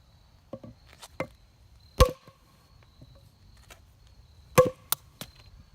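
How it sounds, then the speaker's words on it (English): A small hammer strikes a Master padlock in a few sharp, isolated metallic knocks, two of them loud and ringing, scattered irregularly over a quiet background. "I'm going to start with my smallest hammer and see what kind of damage I can do to this lock"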